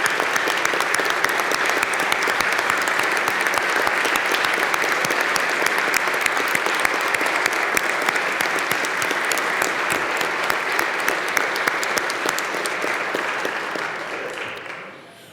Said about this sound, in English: Members, would you please give them a round of applause and thanks for being with us.